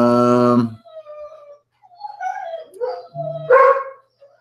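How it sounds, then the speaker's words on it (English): Several dogs barking and yipping excitedly as someone arrives home, with a loud close bark at the start followed by mixed higher yelps and whimpers in short bursts. "Dogs go crazy when she comes home."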